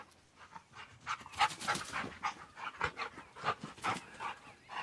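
A dog pants in quick, rhythmic breaths close by, with a few faint whimpers mixed in; no one speaks.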